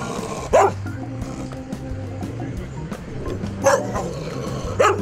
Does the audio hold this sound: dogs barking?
yes